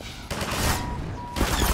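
Gunfire in the video game Half-Life 2: Episode One, a loud burst of shots with a brief dip before a second volley, heard alone with no talking.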